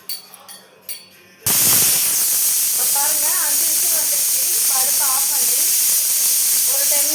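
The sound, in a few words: pressure cooker hissing steam while cooking lentils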